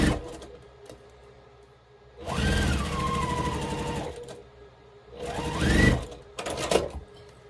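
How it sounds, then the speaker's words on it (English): A sewing machine stitches together a four-patch quilt block in two separate whirring bursts of a couple of seconds each, with a quiet pause between them and a brief final stutter. "So sew our 4 patch together."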